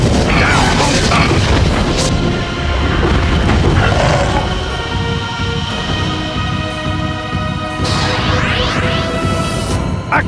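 Crystal cannons firing in the Wii game Godzilla: Unleashed, heavy booming blasts and crashing impacts layered over a dense, loud battle din, with whooshing bursts near the end.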